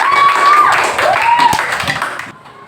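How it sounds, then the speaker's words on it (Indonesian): Classroom of children clapping for a group presentation, a dense burst of applause that fades after about two seconds, with voices calling out over it. "Oke, tepuk tangan sekali lagi."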